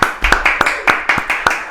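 An audience claps in rhythmic, sharp hand claps that are close and loud, forming brief applause with a voice faintly present underneath.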